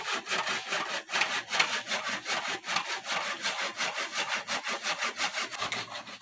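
A hand saw is drawn rapidly back and forth through a wooden roof rafter in a village, giving a fast, continuous run of rasping strokes. It sounds close and clear, with no voices.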